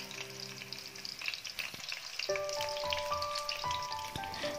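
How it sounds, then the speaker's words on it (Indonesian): Egg batter sizzles steadily in a pan as it is poured into rings of eggplant, a close, continuous crackle with faint tonal clinks and scrapes layered on top, no one speaking. "tuang adonan ke dalam ring terongnya seperti ini"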